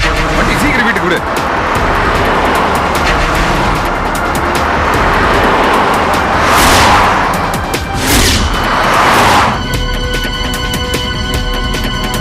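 A car driven through a street and turned around in a Tamil drama scene. A steady rumble of engine and road noise runs throughout, with a couple of loud whooshing swells near the end.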